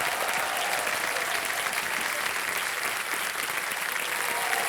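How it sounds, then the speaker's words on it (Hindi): Sustained applause from a studio audience on the Kaun Banega Crorepati set, a steady dense wash of clapping that stays loud and even throughout with no talking over it. "तालियां बज जाए इनके लिए"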